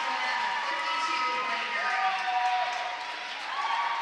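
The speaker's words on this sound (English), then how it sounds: "The crowd is cheering like crazy." Crowd at a high school girls' swimming and diving meet cheering and applauding steadily throughout, a dense continuous roar of clapping and voices with scattered whoops.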